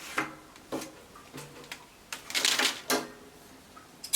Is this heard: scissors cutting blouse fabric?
yes